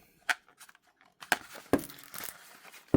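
Scissors snip and tear through toy packaging on a 1960s Redline Hot Wheels car, giving a few sharp crinkly cuts and rustles close by with quiet gaps between them.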